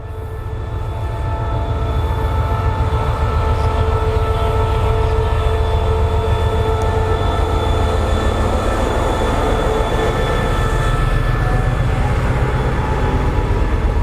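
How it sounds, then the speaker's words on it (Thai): Rapid train No. 135 from Bangkok Apiwat to Ubon Ratchathani, hauled by locomotive 5229, pulls out of Muak Lek station in Thailand, a loud continuous rumble of wheels and engine drone with steady tonal hum throughout, no voices. "บวนรถเร็วที่ 135 นะครับ กรุงเทพอภิวัตร อุบลราชธานี กำลังออกจากสถานีมวกเหล็ก"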